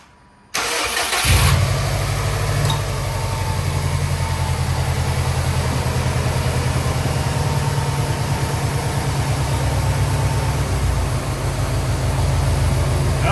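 A Subaru engine, freshly treated with upper engine cleaner, cranks and catches almost at once, then runs loud and close with steady revving and a rough idle for the rest of the stretch, with no talking.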